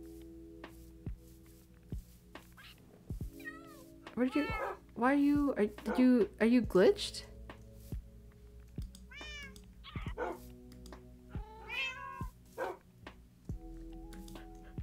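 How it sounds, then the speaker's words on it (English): A Minecraft cat meows repeatedly in short, rising calls, clustered in a burst of several meows near the middle and a few more later, close and clear, while a person talks in between. "Kitty, come back, please."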